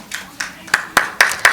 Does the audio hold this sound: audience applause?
yes